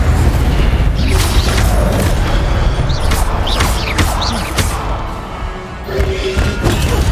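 A fire spell, Incendio, cast in the Hogwarts Legacy video game, bursting out in loud whooshing, crackling blasts mixed with heavy thumps and crashes of combat over a steady rumbling game soundtrack.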